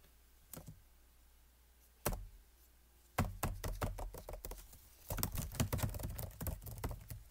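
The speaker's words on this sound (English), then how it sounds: "Those are keys." A bunch of keys jingles and clinks quietly, first in a few isolated rattles, then in denser bursts of metallic taps.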